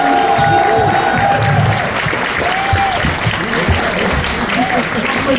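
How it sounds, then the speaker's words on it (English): A theater audience bursts into loud, sustained applause and cheering to welcome animator Genndy Tartakovsky, a thick wall of clapping with whoops and shouts mixed in. "Let's do some cheering."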